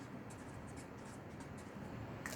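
A marker squeaks and scratches on a board in short strokes while a cell diagram is labelled, faint and close, with no talking.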